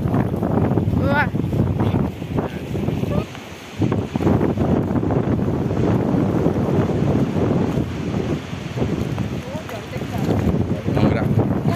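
Strong wind buffets the microphone while waves roll onto the beach at the Puri river mouth, a loud, steady roar with people talking over it.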